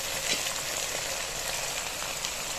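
Ginger and garlic paste fry with onions in a pan, producing a dense, steady crackling sizzle up close, constant and without speech.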